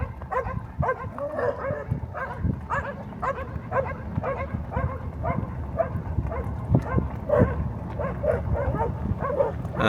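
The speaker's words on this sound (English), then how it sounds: "You can hear the dogs though. There are some dogs." Several dogs barking repeatedly in a small, remote Texas town near the New Mexico border, fairly close and steady throughout, over a low background rumble.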